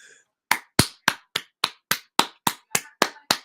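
Eleven sharp, evenly spaced claps ring out close and loud in a steady rhythm after a brief faint murmur, with no talking over them.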